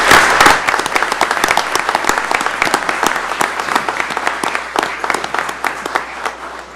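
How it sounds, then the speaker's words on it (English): Round of applause from the audience at a Pasco County Board of County Commissioners meeting honoring a fire chief, dense sustained clapping from many people, loud and steady, gradually thinning toward the end. "I'd like the members here to give him a round of applause for everything he's done"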